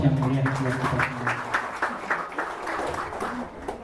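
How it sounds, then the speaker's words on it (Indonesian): Applause from guests at an Indonesian graduation thanksgiving gathering, a steady round of clapping that carries through the whole stretch alongside a speaking voice. "Tepuk tangan dan aplaus yang meriah buat kita semua"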